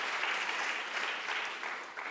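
An audience at a lecture on race, war and refugees claps in steady, sustained applause filling the room, with no voices rising above it.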